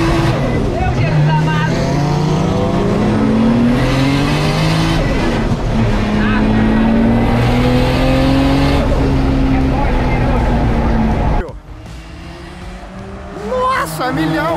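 Race car engine in a Porsche versus Nissan 350Z drag race, roaring loud and close with rising pitch as it accelerates through gears and the tires squeal, before cutting off abruptly near the end while people talk over it.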